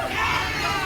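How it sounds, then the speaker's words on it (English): A backyard wrestling tournament crowd at King of the Yard 2 lets out a dense, loud burst of stunned murmuring and shouting, a continuous babble of many voices. "The crowd is in disbelief, ladies and gentlemen."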